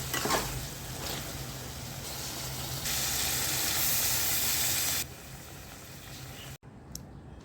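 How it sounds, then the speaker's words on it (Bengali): Meat sizzles and hisses steadily as it is sautéed in a pan for a light curry, the frying noise loud and close, swelling in the middle, then dropping off abruptly near the end. "আমি এখন মাংসটা কষিয়ে নিচ্ছি"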